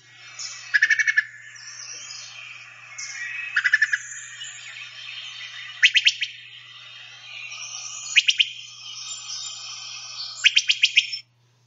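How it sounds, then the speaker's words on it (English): Wood thrush calls in a quiet woodland: sharp, rapid bursts of bup and pit volleys, each a quick stutter of four to six notes, repeating about every two seconds over a soft background of other birdsong. "Those volleys are produced only by the wood thrush."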